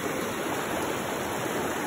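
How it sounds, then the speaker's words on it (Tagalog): Steady rushing water from a stream flowing over rocks along a forest trail, a continuous close broadband roar with no voices over it. "Tingnan nyo naman, naririnig yung tubig."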